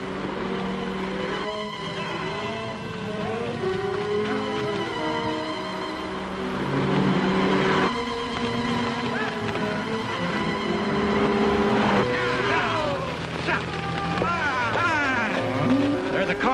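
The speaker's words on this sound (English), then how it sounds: "There's a car. Hear it? It's coming fast." A car engine in a 1942 western film grows louder as it approaches fast, a rising motor drone with shifting pitch that mixes with background music and voices.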